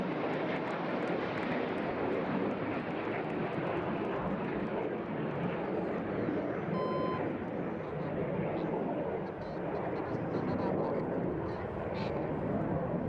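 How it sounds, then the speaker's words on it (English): Red Arrows jets at the 2022 Eastbourne Airshow display roar loudly and continuously overhead as the synchro pair fly inverted, a sustained broad rumble with a faint tone partway through. "For the final time as the synchro pair fly inverted"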